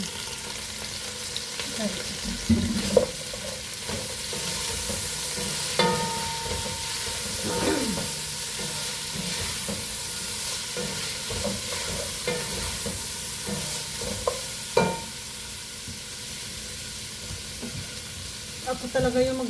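Plant stems being stir-fried for adobo in a pan, a steady close sizzle with scraping stirs and clacks of a utensil, and one brief spoken word near the start.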